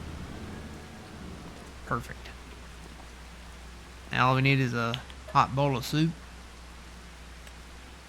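Steady rain falls in Farming Simulator 25 under a dark overcast sky, a soft continuous hiss that carries throughout while someone talks over it.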